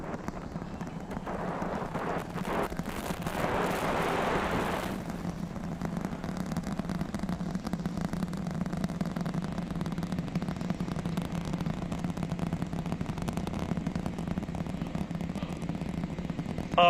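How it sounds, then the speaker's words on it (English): The SpaceX Starship Super Heavy booster's Raptor engines at launch make a deep, continuous rumble with crackling bursts, heard from a distance and sustained throughout. "The rumbles are still building here in the Raptor's nest."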